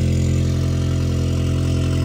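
A cold-started Audi S3 (8Y, MQB Evo) on a Stage 2 E85 tune idles steadily and close, a low, even drone with a strong bass thrum and no revving, no talk over it.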